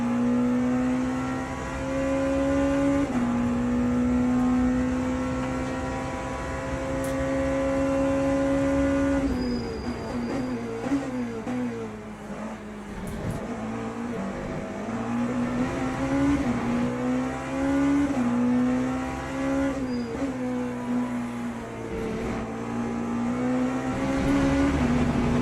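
Race car engines in Le Mans Ultimate at Monza drone and whine in steady, high-revving tones that shift pitch as the cars brake and accelerate through the chicanes, continuous and fairly loud over about twenty-five seconds.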